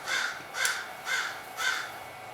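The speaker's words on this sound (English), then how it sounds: "Crow." A crow caws four times in an even rhythm, each call harsh and clear at moderate distance over a quiet background.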